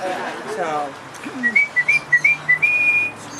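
A pet bird whistles a series of short, bright, rising notes followed by one longer held tone, close and clear, after a person speaks briefly.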